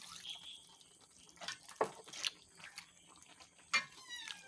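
Coconut milk drips from grated coconut squeezed in a muslin cloth for a Kerala chicken dish, with faint, scattered drips and small splashes at close range over a quiet background.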